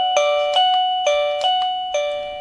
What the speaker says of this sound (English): when you press it, you get that traditional ding dong